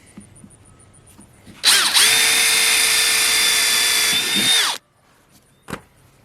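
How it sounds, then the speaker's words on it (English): A power drill whirs steadily for about three seconds, loud and close, drilling a hole in a water tank repair, then winds down and stops, followed by a short knock. "Drill a hole."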